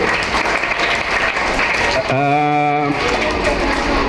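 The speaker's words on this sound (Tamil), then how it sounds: "உங்களுக்கு நீங்களே கைத்தட்டிக்கங்க" Audience applause at a trust function for a Loyola College professor, steady dense clapping throughout with a brief sustained voice or tone rising over it midway.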